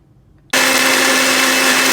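A kitchen mixer grinder blending a yogurt masala paste for chicken roast switches on abruptly after half a second of near silence, then whirs loud and close with a steady high-pitched motor drone.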